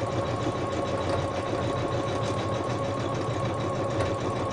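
Embroidery machine stitching out a blanket stitch, a fast, steady mechanical whirring and rattling at close range, running continuously with no voices over it.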